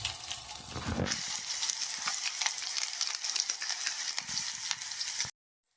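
Whole spices crackle and sizzle in hot oil while tempering, a dense, steady frying hiss with sharp popping bursts running for about five seconds before cutting off abruptly.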